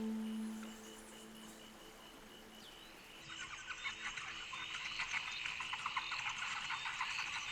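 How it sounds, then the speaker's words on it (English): A dense chorus of hundreds of red-eyed tree frogs on a mountainside starts abruptly partway through a rainy night, loud overlapping chirps and croaks pulsing continuously after a quieter stretch of night ambience. "It was the red-eyed tree frog calling in hundreds on the mountainside"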